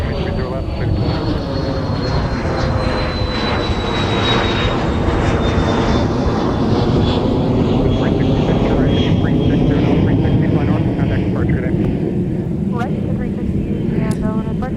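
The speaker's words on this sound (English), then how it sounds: "seeing our aircraft departing off runway 30 left disappear into that cloud cover" A departing airliner climbs off runway 30 left at Minneapolis–Saint Paul airport, its broad, steady engine roar holding loud and constant throughout with a slowly sliding whine on top, no voices audible over it.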